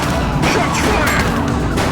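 Gunfire in the police game The Precinct rattles in rapid, dense bursts of shots with crashing impacts, loud and close throughout two seconds of continuous chaotic firing.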